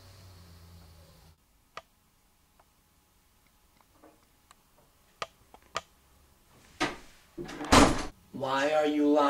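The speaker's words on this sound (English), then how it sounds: "Why are you locking the door?" An interior door being locked, heard as scattered sharp clicks and latch snaps at close range, followed by louder handling knocks and then a stretch of speech.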